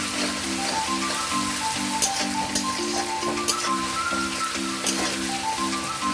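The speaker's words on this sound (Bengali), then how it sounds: "মশলাটাকে ভালো করে কষিয়ে নেব।" Spice paste for Bengali chicken kosha fries in a pan, a loud, dense, continuous sizzle and crackle with a steady repeating hum underneath.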